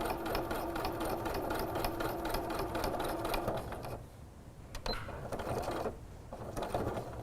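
A sewing machine stitches woven windowpane fabric strips in fast, rhythmic bursts, running steadily, pausing briefly, then restarting for short runs, close and clear with no talking.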